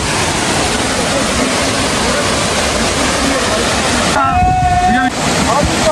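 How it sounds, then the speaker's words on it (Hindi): The Vasudhara waterfall in Uttarakhand cascades from above with a loud, steady, close roar of falling water, and someone speaks briefly over it near the end. "ये ऊपर से झरना गिर रहा है"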